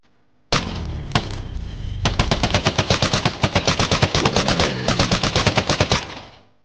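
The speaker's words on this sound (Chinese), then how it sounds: "冰瓜子弹" Ice melon bullets fire in rapid succession in a video game bullet challenge, a dense, loud string of punchy thuds and cracks that runs for about four seconds before cutting off.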